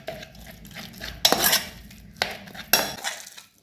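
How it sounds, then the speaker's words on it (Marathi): Cooked fenugreek greens being mashed with a ladle in a pan: three or four distinct metallic scraping and clanking strokes over quiet background, close and without talk. "आपल्याला एक पळी घ्यायची आहे भाजीची आणि पळीने छान असं बारीक करून"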